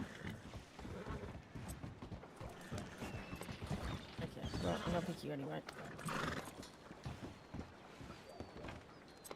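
Horses in a video game give whinnies and snorts with some clip-clop and clicking menu mechanisms, moderately loud beneath someone talking casually over them.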